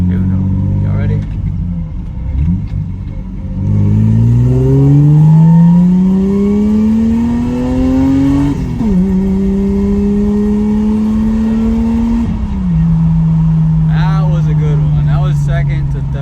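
A Lexus SC300 with a new exhaust and headers accelerates hard through second, third and fourth gear, its loud rumbling engine note climbing steadily with brief dips at each shift, with voices occasionally heard.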